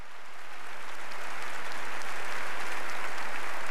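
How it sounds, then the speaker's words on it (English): A crowd applauds Mother Teresa's remarks on the sanctity of human life, dense clapping that swells in from a softer start and holds as a steady, full wash of sound. "Mother's comments on the sanctity of human life were met repeatedly with applause"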